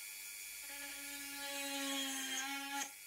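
A Dremel rotary tool drills holes in a dried gourd, giving a steady high whine that rises in pitch as it bites into the shell, then stops abruptly with a brief knock.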